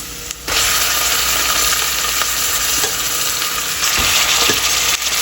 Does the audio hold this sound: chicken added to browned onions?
yes